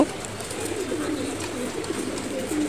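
Pigeons cooing steadily at close range, soft low throaty calls overlapping in a continuous murmur with no talking.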